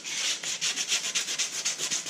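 Sanding spray putty on a part from a 1978 Victa V196 two-stroke utility mower, a close, steady rhythmic rasping of back-and-forth strokes, about ten passes, heard alone.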